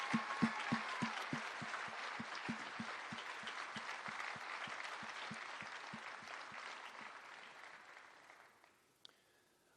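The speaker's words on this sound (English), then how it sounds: "giving them a round of applause" At a 2021 Mooresville High School graduation ceremony, a large crowd applauds veterans and service members with sustained steady clapping and a few louder rhythmic claps near the front that fade out by the end.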